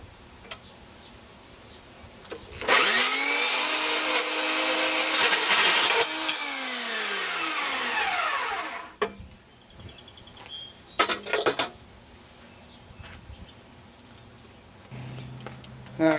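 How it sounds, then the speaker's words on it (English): A bandsaw cuts an aluminum vinyl threshold piece with a loud, steady, high whine that lasts about six seconds. Scattered clicks and knocks follow once the blade stops. "I'm going to cut this aluminum here with the bandsaw."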